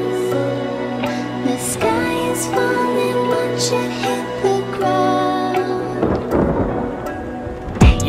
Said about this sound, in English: You hear the sound of thunder